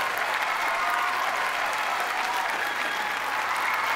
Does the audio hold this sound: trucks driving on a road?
no